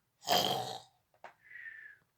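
A voice imitates a sleeping child snoring: one long rasping inhaled snore, a short click, then a thin whistling exhale, close and quiet.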